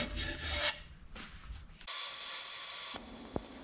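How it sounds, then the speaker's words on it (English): Abrasive sanding on a plywood platter with a sanding disc comes in several short rasping bursts, then settles into a steadier whirring stretch, close up and moderately loud. "For sanding, I started at 100 grit and went all the way up to 600 grit"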